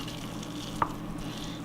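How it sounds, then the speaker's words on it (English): Oil sizzles and crackles steadily as tuna croquettes fry, with one brief clink partway through. "we're going to go ahead and get started with frying"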